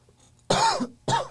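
Two sharp, close coughs a half second apart, the first longer with a raspy throaty tail and the second shorter, standing alone against a quiet room.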